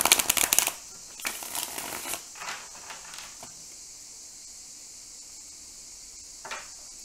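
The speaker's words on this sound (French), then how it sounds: "j'utilise le tarot des clés picturales pour faire ce tirage" A tarot deck being shuffled for a card reading: a dense burst of riffling card flutters in the first second, a few shorter shuffles after, then near quiet with one last brief flick.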